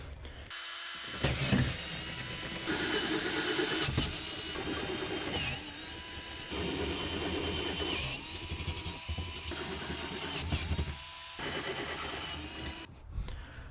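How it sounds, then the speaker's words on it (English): A power drill enlarging existing holes for a seat delete install in a fourth-generation Toyota Tacoma whines steadily through several long bursts, pausing briefly between holes, with grinding, rattling bite against a noisy workshop background. "just drill the existing holes. They just need to be a little bit bigger."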